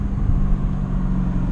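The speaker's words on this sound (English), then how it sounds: "I'm going to give you guys an idea of what it's like to accelerate in this car at lower gears in the rain" A BMW E39 M5 accelerates in a low gear on a rain-soaked road, its engine giving a steady, close, low rumble under constant road noise.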